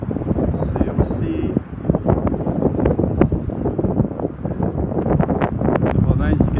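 Wind gusts across the microphone at Lac Leamy beach in Gatineau, Quebec, a loud buffeting rumble throughout with someone talking over it.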